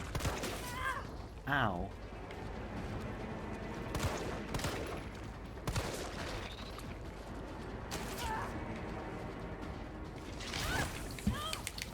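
Pistol shots in the Resident Evil 3 game, several sharp cracks spaced a couple of seconds apart amid mechanical clanks, game noises and creaks, while a player talks over it and yelps once.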